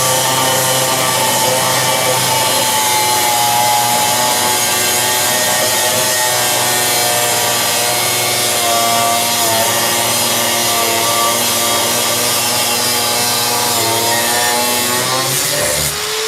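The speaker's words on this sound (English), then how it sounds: "just watch the power of the angle grinder" A 500 watt angle grinder cuts through thick solid steel bolting in one continuous, loud, steady whine with a harsh grinding rasp and no pauses.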